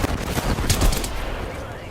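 Fuse's Knuckle Cluster fires in Apex Legends Season 9, a loud, close burst of rapid popping blasts packed into about a second, with a rumbling tail that fades as the clip ends.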